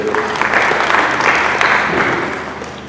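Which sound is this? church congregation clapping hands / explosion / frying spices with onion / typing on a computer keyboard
church congregation clapping hands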